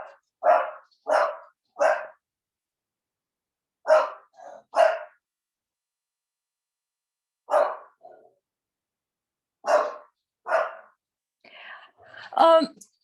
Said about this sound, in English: I've got a barking catastrophe.